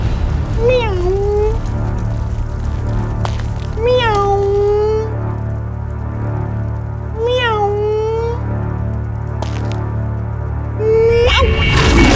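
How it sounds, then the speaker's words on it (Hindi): A cat meows four times, each a rising-then-falling cry spaced a few seconds apart, over a steady low background hum. "प्यारी सी बिल्ली है, बिल्ली।"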